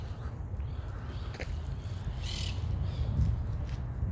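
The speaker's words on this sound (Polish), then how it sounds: "Ale jest ich tu mnóstwo tych papug" Parrots call in Syntagma park in Greece, with harsh squawks and chirps rising over a steady outdoor background rumble at moderate distance.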